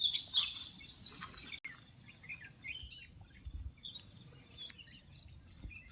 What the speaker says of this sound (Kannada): ನಮಗೆ ಕೇಳ್ತಾ ಇರೋದು ಪಕ್ಷಿಗಳ ಚಿಲಿಪಿಲಿ ಮಾತ್ರ